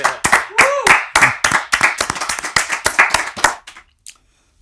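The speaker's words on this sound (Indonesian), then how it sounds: "Tepuk tangan buat Giant G." Studio audience applauding a guest on an Indonesian talk show, a dense burst of loud, close hand claps that fades out near the end.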